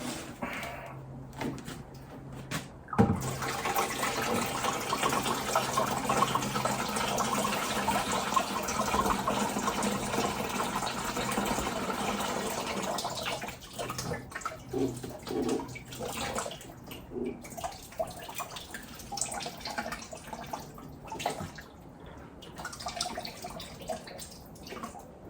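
Hot water is poured out of a Brown's gas generator during maintenance, a steady splashing gush that runs for several seconds before tapering into drips and small clanks, close by and quiet.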